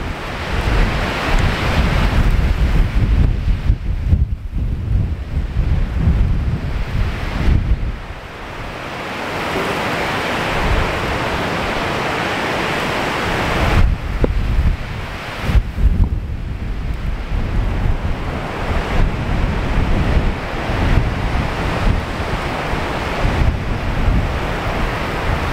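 Storm Babet waves crash over a seawall at Whiting Bay on the Isle of Arran as strong wind roars into the microphone, a loud, continuous broadband rush with surging swells and gusts throughout, without speech.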